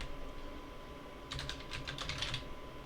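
Commands typed on a computer keyboard while running Recon-ng on Kali Linux, a short quick burst of close key clicks over a faint hum, without speech.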